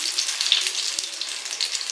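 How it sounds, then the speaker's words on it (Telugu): A whole fish fries in a pan of oil over low heat, with a soft, continuous hiss and light crackle, close and fairly quiet. "ఒక సైడ్ మంచిగా ఫ్రై చేసుకోవాలండి"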